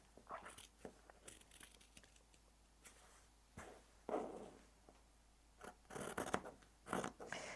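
Scissors snip a corner off a piece of scrap fabric with quiet, irregular cuts and rustles, a few louder snips near the end, and no talking.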